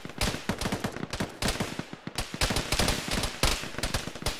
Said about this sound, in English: One's got a lot of enemy gunfire,